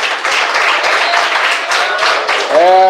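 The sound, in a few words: church congregation clapping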